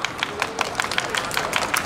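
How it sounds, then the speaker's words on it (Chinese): Audience applause greets a guest at an indoor stage event, a brief patter of light, scattered claps from a modest crowd heard fairly close. "要给他一点掌声，好不好？"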